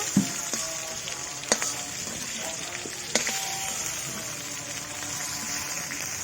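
Food fries in hot oil in a pan while a chicken egg biryani is cooked, a steady soft sizzle with a few sharp clinks of a utensil against the pan.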